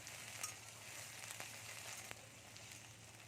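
Broad beans and potatoes fry in a pan for a besara dish, giving a soft, steady sizzle and crackle that stays faint and even throughout, with no talking.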